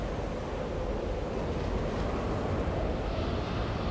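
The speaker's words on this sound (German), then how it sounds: "der Sturm entsteht da hinten, der ganz falschen Seite. Unten am Meer quasi." Storm wind and sea waves in the Jurassic World Evolution video game form a dense, unbroken rushing roar, steady and fairly loud throughout, with no voices over it.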